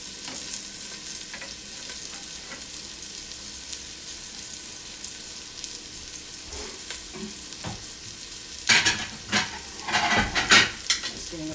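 A ginger beef sauce seasoned with black pepper bubbles and sizzles on medium heat in a pan, with soft stirring, then louder scraping and clinking of a utensil toward the end.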